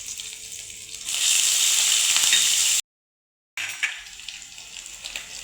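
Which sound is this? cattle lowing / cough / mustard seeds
mustard seeds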